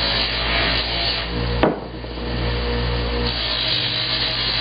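Hand sanding lightly across an irregular surface and chamfer edges of a small workpiece, a steady close scratchy rasping with one sharp knock partway through.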